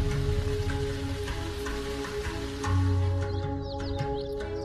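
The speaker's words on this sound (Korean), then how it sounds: "비가 내리고 있는 여름 초원에 도착하고 있습니다" Steady rain falls across a summer grassland, making a continuous dense patter with a low rumble underneath. The level stays fairly even the whole time and no voices are heard.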